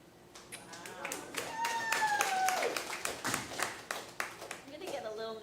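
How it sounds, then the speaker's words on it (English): An audience at a St. Louis comedy show claps for a comedian's original backpack prop: sharp, uneven hand claps building into applause, with a voice talking through it. "I'm gonna get a little nervous if my props start getting a little bit more applause than I do"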